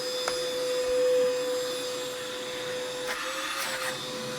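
A Vacmaster 20V cordless 2.5-gallon wet dry shop vac runs with a steady whining motor tone, close and fairly loud, its pitch wavering slightly near the end, with no talk over it.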